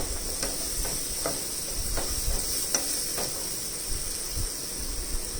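Butter sizzling and browning in a non-stick pan, a steady close hiss with small crackles and occasional light spatters, no voices over it.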